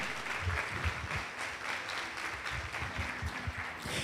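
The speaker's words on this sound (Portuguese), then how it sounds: "aplauda o Senhor, amém?" A church congregation claps in praise to the Lord during a Sunday sermon, with steady, moderately loud rhythmic clapping running throughout a short stretch amid a reverberant hall.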